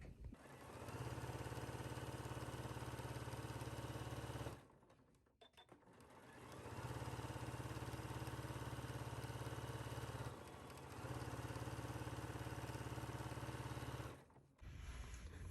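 A sewing machine understitches a seam on a caftan, running steadily in long bursts with two brief pauses between them and no talking.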